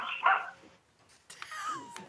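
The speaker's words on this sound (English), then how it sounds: "Is that a dog?" A dog barks twice in the background during a school board meeting, one sharp bark followed by a yelping, whining call after a short pause, faint and somewhat distant.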